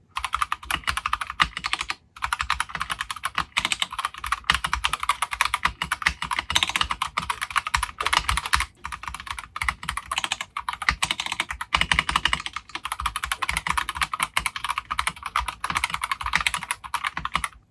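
Stock Akko Dolly Princess mechanical keyboard with jelly turquoise switches being typed on steadily, a dense, continuous stream of close clacky keystrokes with only brief pauses and no talking.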